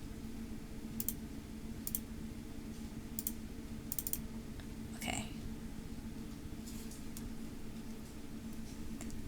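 A computer keyboard being typed on in a few sparse bursts of crisp clicks around the first four seconds, over a steady low hum, with a brief spoken word.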